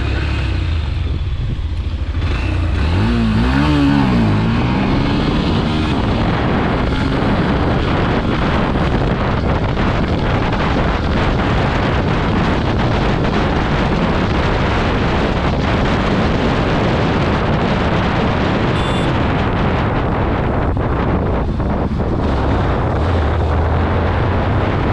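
Yamaha FZ-S V3 motorcycle pulling away in first gear and accelerating through the gears on an open road, a steady close engine note smeared by heavy wind buffeting on the microphone, with no talking.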